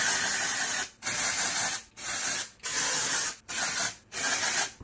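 Dry shampoo sprays from an aerosol can onto hair in five long, loud hissing bursts of about a second each, separated by short even pauses, close up with no voices.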